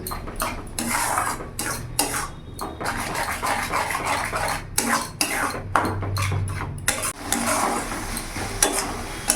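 Spices such as cumin and coriander powder are stirred and fried in a pan over a raised gas flame, with a metal spoon scraping and clinking against the pan in irregular bursts over a steady sizzle, with no talk.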